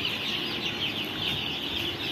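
Broiler chickens in a poultry shed with its curtains open on two sides, a dense, steady murmur of many birds clucking close by, continuous and even throughout.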